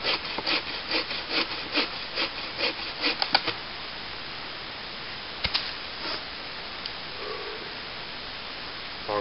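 A folding bushcraft saw cuts through wood with a run of quick, rhythmic rasping strokes up close, then pauses, with a couple of isolated scrapes and light handling noises afterward; no talking.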